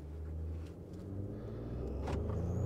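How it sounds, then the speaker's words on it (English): Ford F-150 pickup with an EcoBoost turbo engine and an aftermarket intake, held on the brakes and revved, then accelerating: a steady, close engine rumble that swells slightly toward the end. "let me kind of brake torque it a little briefly and just kind of accelerate."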